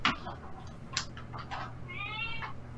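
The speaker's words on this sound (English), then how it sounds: "is that a cat meowing?" A domestic cat meows several times, faint and nearby, with short cries and one longer drawn-out meow against quiet room noise.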